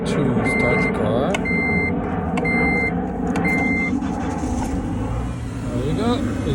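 A 2006 Honda Element being started after key programming: an engine cranking and running steadily beneath repeated chime-like beeps while people talk nearby.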